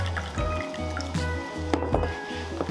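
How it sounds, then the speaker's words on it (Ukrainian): Concentrated lemon juice being diluted with water, a soft liquid pour and fill that runs steadily at close range beneath a low, sustained tonal background. "Концентрований лимонний сік розчиняємо водою"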